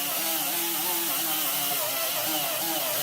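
Power sander with a 3-inch disc on a 2-inch backer pad working a custom hot rod door handle, a steady loud whir with wavering pitch running unbroken throughout.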